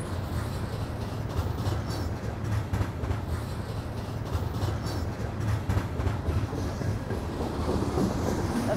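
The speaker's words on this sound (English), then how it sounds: "Coal train." A long coal train rolls past at close range, a steady heavy rumble with rhythmic clickety-clack from wagon wheels on rail joints throughout.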